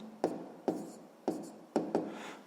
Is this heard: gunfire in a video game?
no